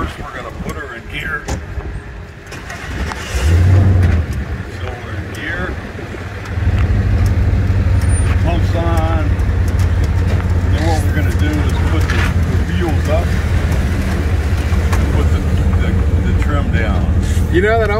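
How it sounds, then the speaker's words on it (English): Amphibious boat built from a Hummer H1 shifts into gear, and its engine settles into a steady low drone while it drives, with people talking and exclaiming over it throughout. "First, we're going to put her in gear."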